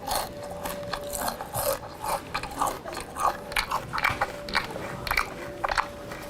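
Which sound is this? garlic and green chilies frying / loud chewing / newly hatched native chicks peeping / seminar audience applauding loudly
loud chewing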